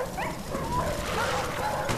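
Dog barks and yips from a Black Ops video game Headquarters match, mixed into dense game noise and sound effects throughout a short two-second burst.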